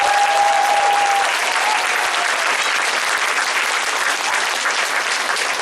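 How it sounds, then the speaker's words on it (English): An audience applauds a school chamber orchestra at a concert, with broad continuous clapping from many hands, loud and even from start to finish and no speech over it. "If you could please do a round of applause for each orchestra that I introduce"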